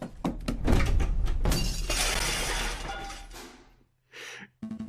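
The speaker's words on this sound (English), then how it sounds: "Stand back. I'll bite the door down." A cartoon door is smashed in with a loud shattering, splintering crash of breaking wood and glass that fades away. A short thump and brief sounds follow after a pause.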